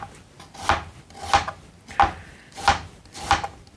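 A knife slicing a white onion lengthwise on a board, with five evenly spaced crisp chops at a steady rhythm, close and clear with no talking.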